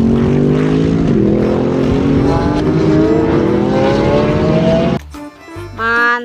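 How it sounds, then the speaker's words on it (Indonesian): A toy race car sound effect: a loud engine whine climbing steadily in pitch as it revs up, then cutting off abruptly into a brief lower burst of engine noise. "Wadidaw, mobil balap."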